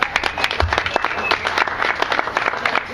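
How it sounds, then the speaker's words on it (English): An audience applauds, a dense burst of clapping from a crowd that holds steady and loud throughout. "Let's give him a round of applause."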